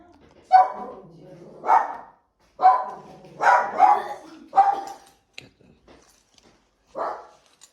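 A dog barks in separate loud, close bursts, about seven in quick succession with short gaps, heard alone without talk.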